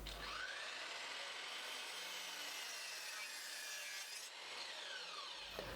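A miter saw grinds steadily through wood for several seconds, cutting a 45-degree angle, a continuous rasping whine that stops briefly near the end before starting again.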